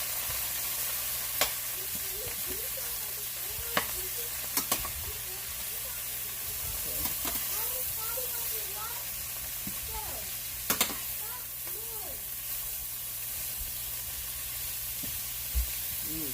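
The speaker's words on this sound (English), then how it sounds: "I'm going to stir it up a little bit." Onions, peppers and cabbage frying in a pan give a steady close sizzle, broken by occasional scrapes and clacks of stirring, with faint voices in the background throughout.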